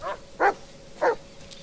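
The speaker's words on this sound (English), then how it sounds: "Stop barking, bad dog." A dog in the Blair Witch video game barks three short, sharp times at even intervals, close and distinct over a quiet, low background hum.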